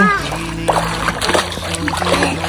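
Water splashing as people swim in a clear stream, a steady close splatter and slosh under children's and adults' chatter.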